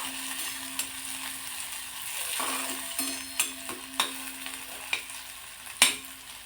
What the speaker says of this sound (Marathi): बारीक चिरलेला कांदा, तेलावरती भाजून घ्यायचं हे.